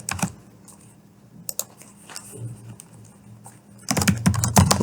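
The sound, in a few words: typing on a computer keyboard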